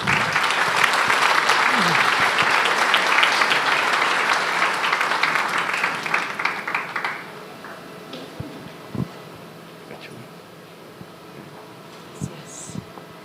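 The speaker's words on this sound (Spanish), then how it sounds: "Vamos a recibirlos con un fuerte aplauso" Loud, dense audience applause at a church gathering in Monterrey, a sustained wash of clapping for about seven seconds that tapers into scattered claps and room noise with occasional knocks.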